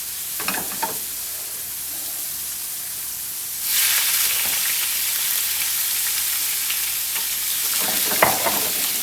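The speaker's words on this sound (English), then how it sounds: "I'm going to add a little bit of vegetable oil to our shrimp pan here" Shrimp seasoned with garlic salt and paprika frying in vegetable oil in a pan, a steady close sizzle that swells into a louder, brighter hiss partway through, with occasional stirring scrapes and no talk.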